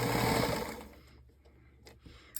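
A sewing machine runs briefly as it stitches a quarter-inch seam around the lining of a quilted basket. The quiet whirring fades after about a second, followed by faint handling clicks.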